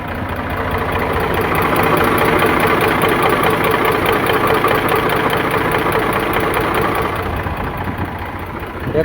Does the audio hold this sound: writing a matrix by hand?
no